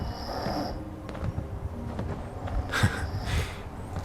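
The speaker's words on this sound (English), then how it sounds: "You can hear our players snoring." Player characters asleep in the video game Fallout 76 snore with rough, breathy rasps, interleaved with soft footstep-like thumps and noisy background ambience.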